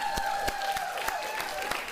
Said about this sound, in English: Let's clap for the liquor.